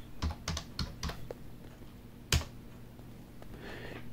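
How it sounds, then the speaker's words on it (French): Someone types on a computer keyboard: a quick run of close, crisp keystrokes, a pause, then one louder tap, over a faint room hiss. "On tape Google Fonts"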